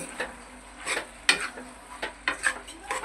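Macaroni pasta stirred into a red masala sauce in a pan, a series of rhythmic scraping and clattering spoon strokes over a light sizzle, close and fairly loud, without speech.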